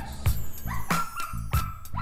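A male dog on a training leash barks and yips in short repeated bursts, close and fairly loud, with brief whimpering tones between the barks.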